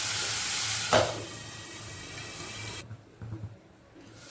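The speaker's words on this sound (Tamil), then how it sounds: "கொஞ்சம் வதங்கும் போது இஞ்சி பூண்டு போட்டுங்க" Ginger and garlic hit hot oil in a frying pan with a bright sizzle and a sharp stirring scrape near the start, then the frying hiss drops away to quiet clinks and soft stirring.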